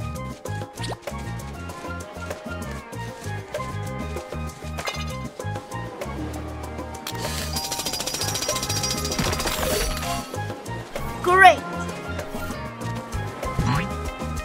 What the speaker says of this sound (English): Use Rubble's drill to clear the rock away.